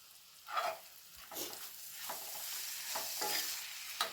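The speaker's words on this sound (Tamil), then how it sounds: "இப்போ நம்ம அரைச்சி வச்சுருக்கோம்ல அந்த இதை அதில் போட்டு பரட்டிடலாம்" Ground paste is stirred into raw banana pieces frying in a pan, with a quiet hiss under rhythmic scraping strokes of a spoon against the pan.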